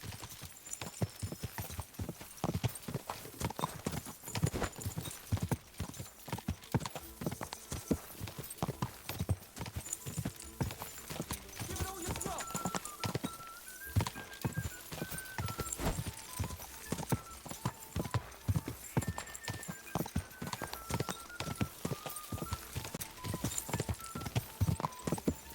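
Rapid horse hooves pound in a steady galloping rhythm during a race in Kingdom Come Deliverance 2, close and continuous, with occasional faint whistle-like tones above.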